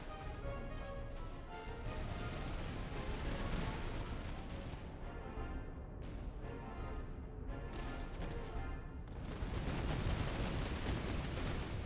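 Soldiers fire in a Master of Command battle with the Prussian Freikorps, a dense, continuous rattle of musket volleys and crackling shots with heavier booms, loud and sustained throughout with no talk.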